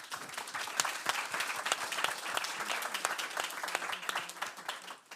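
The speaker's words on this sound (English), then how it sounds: "Can you give a round of applause?" A conference audience at a regenerative tourism event claps in a sustained round of applause, individual claps distinct within the steady wash, fading slightly at the end.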